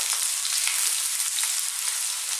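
Chunky sliced garlic and ginger frying in oil on maximum heat for chicken chow mein, a loud, close, continuous crackling sizzle.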